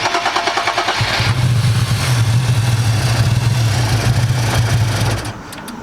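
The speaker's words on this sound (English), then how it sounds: "Try starting it. Try starting it." VR30-swapped Nissan 370z engine cranking and catching, a loud close rumble that settles into a steady low idle for a few seconds before dropping off, no talk over it.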